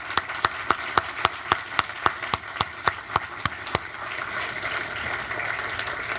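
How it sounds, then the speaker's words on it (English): Ceremony audience at an OSS 75th anniversary event applauding honorees, a few sharp, evenly spaced claps standing out near the front over a softer, spreading wash of room applause that swells and holds. "So please join me in giving them a warm round of applause."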